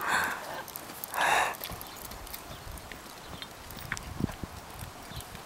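Horse hooves clip-clop on the ground in an irregular walking rhythm, fairly close, with a couple of brief louder rustling bursts early on and no talk.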